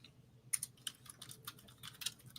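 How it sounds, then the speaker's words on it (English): Fast, light keyboard typing in quick irregular clusters of keystrokes, close but faint, in a quiet room with no talking. "I'm typing it."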